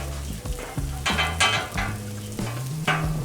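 Brisket meat sizzles on a 36-inch Blackstone griddle as a spatula scrapes and shifts it, with bursts of hissing between metal strokes.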